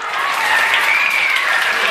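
A crowd at a prize-giving ceremony applauds a winning student with steady, dense clapping that fills the whole stretch, loud and close, with no break.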